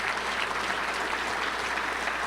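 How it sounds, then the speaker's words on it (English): A luncheon crowd at the Little Rock Touchdown Club gives Jeff Long a round of applause, many hands clapping in a thick, even wash with no voices on top. "That's worth a round of applause."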